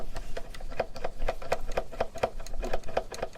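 A small hand-cranked string winder unwinds a guitar string, giving off a close, steady run of rapid clicking ticks, about four per second.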